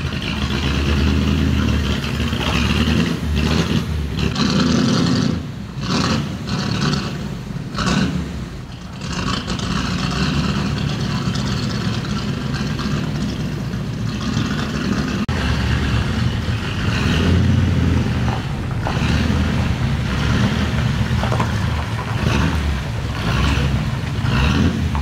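A 1938 Horch 951 A Pullman Cabriolet, the largest Horch of its era, drives on through traffic, its engine giving a steady, continuous mid-pitched drone with slight swells, close and loud throughout.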